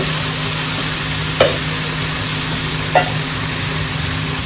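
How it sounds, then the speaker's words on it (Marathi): Soaked raw chickpeas are sautéed in a pressure cooker, giving a steady, moderate sizzle with two brief sharp clinks of a stirring utensil against the pot. "आपण आता याच्यामध्ये हे छोले घालूया भिजवलेले हे कच्चेच आहेत"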